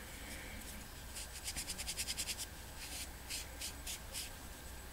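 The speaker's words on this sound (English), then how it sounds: "just need to get rid of the excess foundation because I squeezed a little bit too much out." Soft rubbing and patting of fingers or a sponge across skin while e.l.f. foundation is blended, a faint close run of quick rhythmic strokes in two short bursts over quiet background.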